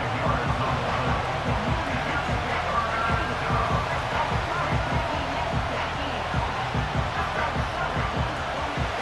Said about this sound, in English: This crowd trying to be a factor, getting very loud now